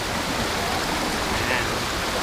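Shallow, knee-deep water rushing steadily around a bare GoPro camera at Baler, Aurora, a dense broadband wash with no pauses, close and fairly loud.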